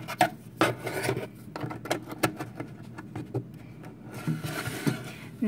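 Thin wood strip slid into a 1:12 scale miniature wood floor, giving faint, close rubbing and scraping with small taps in quiet surroundings.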